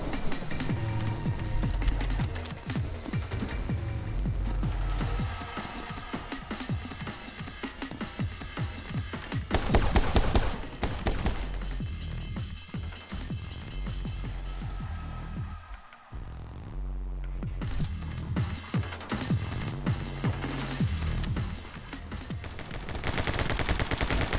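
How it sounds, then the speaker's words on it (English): Video game My Friend Pedro plays continuous rapid gunfire from pistols, Uzis and a shotgun, mixed with explosions. The dense, loud bursts sit over a pounding backdrop, with one brief dip midway before the shooting resumes. "you can clearly hear a difference between the pistol and the Uzis, and later on when you get the shotgun, you can hear the difference"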